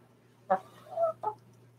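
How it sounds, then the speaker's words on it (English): A chicken gives three soft, short clucks spaced within about a second, heard close and faint over a low steady hum. "I think you're a very special chicken."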